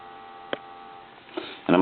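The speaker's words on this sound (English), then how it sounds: "Give you some dial tone." A steady, faint dial tone hums from a rotary desk telephone, broken by a couple of soft clicks and ending in a louder handling noise.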